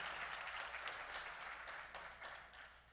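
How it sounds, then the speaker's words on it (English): A conference audience at a Trans/GNC liberation plenary claps steadily for about three seconds, a faint, distant wash of many hands that tapers slightly toward the end. "give them a round of applause."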